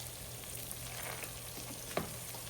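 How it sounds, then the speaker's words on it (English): Sugar caramelizing in hot oil in a stew pot makes a steady, soft sizzle and crackle close up, with one small clatter near the end and no one talking. "Just have to caramelize for our stew."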